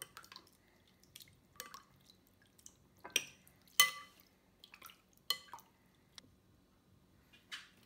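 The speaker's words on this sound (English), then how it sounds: "Now we're gonna mix it around." A spoon stirs salt into a bowl of shrimp cocktail with clamato and V8 juice, making quiet, sporadic wet clicks, squishes and drips separated by near silence.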